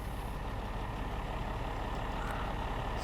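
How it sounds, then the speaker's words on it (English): Truck engine in the SnowRunner video game running steadily at close range, a loud, continuous low rumble throughout with no pauses. "Start the engine."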